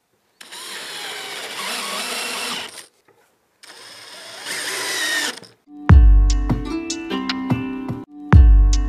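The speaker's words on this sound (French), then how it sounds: "on va pouvoir positionner les cornières pour les visser dessus" A power screwdriver drives screws through metal angle brackets into the wooden boards of a wood-and-metal compost bin, with two long whirring bursts followed by sharp clattering knocks and a final bang, close by with no talk.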